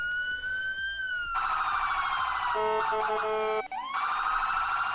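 Emergency vehicle siren wailing loud and close, its tone sweeping up and down then switching briefly to a rapid yelping pattern before resuming the steady wail.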